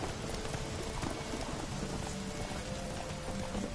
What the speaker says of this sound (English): controlling this horse on this narrow track is a lot harder than it looks